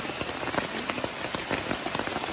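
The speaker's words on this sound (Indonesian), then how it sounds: "tiba-tiba hujan, nggak pakai rintik-rintik, langsung keroyokan hujannya" Sudden heavy rain pouring down on a mountain camp on Gunung Halau-Halau, a dense, constant patter of drops drumming on surfaces close by with no voices.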